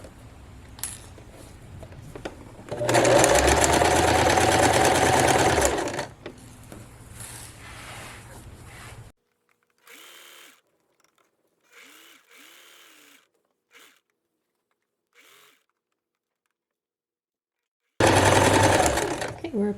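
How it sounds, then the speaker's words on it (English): A sewing machine stitching a horsehair hem along the hemline of a formal dress, running in loud sustained bursts separated by pauses with soft clicks, while a person talks in between. "now we're stitching on what should be the line where you want the dress to end"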